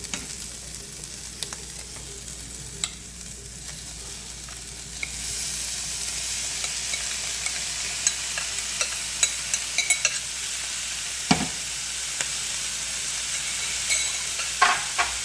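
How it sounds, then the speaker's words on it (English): Ground beef sizzles in a pan while being stirred, the hiss starting quieter and then swelling louder after a few seconds, punctuated by scattered spatters and utensil scrapes, close and free of speech. "Okay, I'll just stir this up a little bit."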